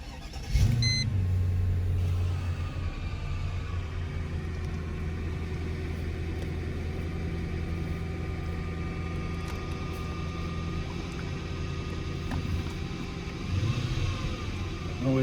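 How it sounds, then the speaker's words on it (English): A 1999 Mercedes SL500 V8 cranks and fires up on a cold start, then settles into a steady, smooth idle heard up close with a brief blip near the end. "we're gonna do a cold start on this Mercedes SL500"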